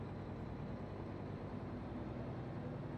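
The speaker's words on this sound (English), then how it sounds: "I love the sound of this truck." A modded heavy truck's engine in American Truck Simulator gives off a steady, unbroken low drone, a constant even rumble with no rises or breaks.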